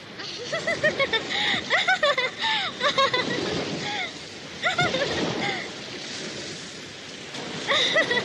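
Rough, crashing southern ocean surf in an Indonesian radio drama rolls in a steady wash behind lively voices and laughter, with the waves moderately loud throughout.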